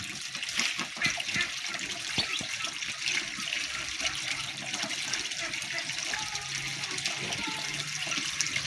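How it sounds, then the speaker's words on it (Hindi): Steady splashing and running water as a black duck flaps and bathes in a shallow tub, pouring water over itself, continuous and fairly close with no talking. "ये देखें किस तरह नहा रही है"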